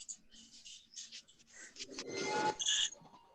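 The 'money printer go brr' meme sound effect: a rising mechanical whirring and grinding like a printer churning out sheets, topped by a few high electronic beeps, with a voice partly over it.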